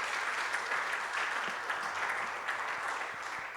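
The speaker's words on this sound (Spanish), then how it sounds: "Así que dale un fuerte aplauso a Dios." A church congregation applauds loudly and steadily in a central temple sanctuary, a dense wash of clapping that fills the room throughout without speech.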